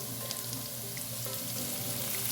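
Garlic frying in a pan while making carbonara, a soft steady sizzle close by with faint stirring clicks, no voices.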